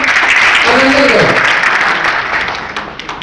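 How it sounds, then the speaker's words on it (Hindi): An assembled crowd claps to honour a newly announced district president, loud dense applause up front that gradually thins and fades toward the end, with a brief voice rising over it early on. "इनका एक बार ताली बजा के दोबारा अभिनंदन करो"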